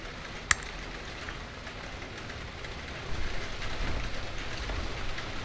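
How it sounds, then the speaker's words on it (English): Steady rain falls outside in the horror game Dungeon Nightmares 2, set in a hotel, a constant broadband hiss with one sharp click early on and a slightly louder swell in the second half; no one talks. "still raining outside?"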